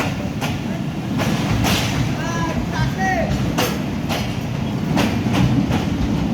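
The Rocket Mail passenger train from Khulna to Chilahati rolls past close by at Jayrampur, with rhythmic clickety-clack bursts and brief wheel squeals, while people talk over the noise.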